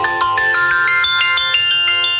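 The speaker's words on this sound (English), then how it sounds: "Here is my phone one of my 5 alarms." A phone alarm ringtone plays alone, a bright repeating melodic pattern of electronic tones pulsing steadily and loudly close to the listener.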